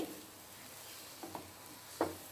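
Beetroot stir-fry cooked with country sugar being turned over in a pan, soft scraping stirs with a couple of brief clinks and a quiet steady sizzle underneath, close and fairly faint.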